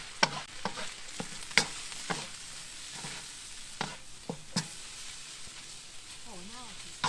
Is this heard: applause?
no